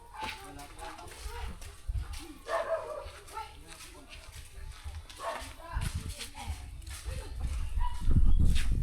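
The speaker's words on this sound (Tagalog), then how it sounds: "May ano lang, may aso. Nagalit sa aso. Aso ang tinatahol." A dog barks in short bursts at another dog while people talk nearby, the barking rising louder toward the end.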